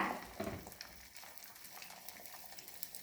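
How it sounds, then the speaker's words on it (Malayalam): Egg omelette for an egg sandwich frying in a pan, a soft steady sizzle with faint crackles and a brief stir or scrape near the start, moderately quiet throughout. "ഇനി ഞാൻ ഒരു മുട്ട ഓംലേറ്റ് ഉണ്ടാക്കാൻ പോവാണ്"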